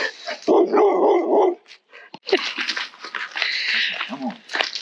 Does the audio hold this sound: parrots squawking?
no